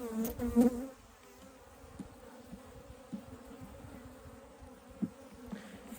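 Honey bees buzz softly at an open beehive during an October hive check, a low steady hum with a few louder handling bumps near the start, no talking.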